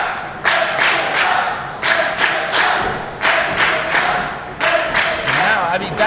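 A wrestling crowd at a live match reacts to David Hetfield, loud roaring noise with rhythmic surges like repeated clapping or stomping bursts about every second.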